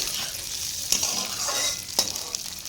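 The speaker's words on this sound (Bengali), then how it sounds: "এবারে বিনসটাকে দিয়ে দেব দিয়ে সুন্দর করে একটু নেড়ে নেব গ্যাসের ফ্লেমটা একটুখানি বাড়িয়ে দেবো হালকা করে করে নেড়ে নেব" Chopped carrot, capsicum and beans fry in a pan over a gas flame, a constant bright sizzle broken by two distinct scraping stirs of a spatula and a few lighter knocks.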